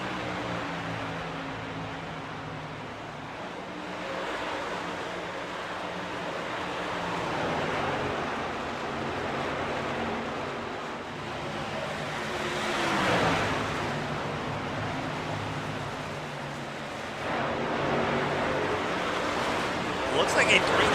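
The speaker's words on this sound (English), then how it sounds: "you can hear the heavy lifts on the throttle to try and get those trucks settled into the corners" Race truck engines at Rockingham in a SPARK Truck Series race: a steady broadband engine roar that swells and dips as drivers lift off the throttle into corners, with a commentator talking over it.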